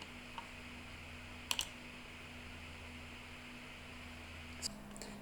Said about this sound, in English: typing as many characters as it takes for the search result you need to show up